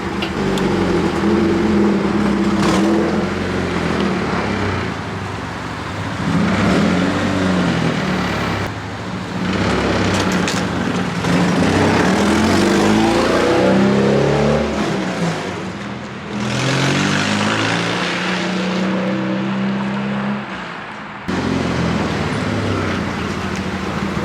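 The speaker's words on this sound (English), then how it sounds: "I'm gonna slam on the brakes in second gear and see if that kills the car" A Nissan 240SX engine hums and revs loudly up close as the car drives, with the sound dropping sharply during hard braking in second gear.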